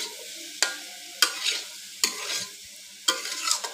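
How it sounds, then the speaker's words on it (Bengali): Potatoes frying lightly in a pan, stirred in four distinct strokes, each a sharp scrape followed by a short sizzling rush over a quieter background sizzle. "আমি সেম একইভাবে এই আলুগুলো একটু হালকা করে ভেজে নেব।"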